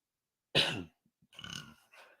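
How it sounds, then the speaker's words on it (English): A person lets out a short burp after a bubbly drink, followed by a softer second belch and a faint trailing one, close up in an otherwise quiet room. "the bubbly drink is getting to me, causing me to burp"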